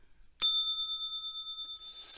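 A single bright bell strike at the close of a live trading broadcast rings out clearly and alone, its pure tone sustaining and slowly decaying for nearly two seconds.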